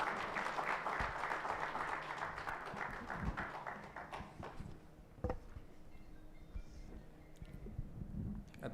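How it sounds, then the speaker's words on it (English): A crowd at a Gujarat political event applauds to welcome a speaker. The clapping is dense and fairly distant at first, then thins to scattered individual claps as it fades out. "please welcome. With a huge round of applause."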